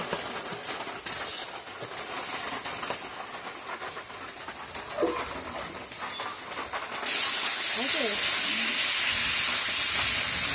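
Small fish and chopped potatoes dropped into hot spice paste in a home kitchen, giving a steady hiss of frying that swells into a louder, dense sizzle partway through, with no talking.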